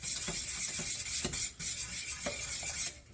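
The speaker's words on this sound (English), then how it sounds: "Keep mixing until it's porridge consistency" A wooden spoon stirs thick pap porridge in a pot, with close, steady scraping and soft thick slaps repeating in a loose rhythm over a few seconds.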